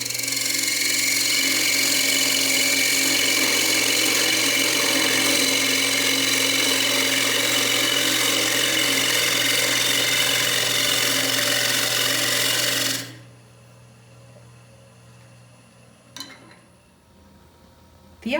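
A wood lathe turns a cedar container as a scraper cuts inside it, making a loud, steady whir and scraping hiss for about thirteen seconds before it stops and a few faint clicks follow.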